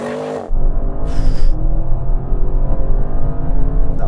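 An Audi car accelerates hard from a launch, its engine roaring loud and close with rising revs over a deep continuous rumble.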